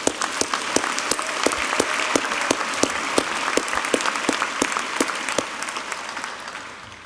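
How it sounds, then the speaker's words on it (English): A large audience at a business school master's commencement claps loudly and continuously, with dense, even applause that fades slightly toward the end. "So let's give them a round of applause here."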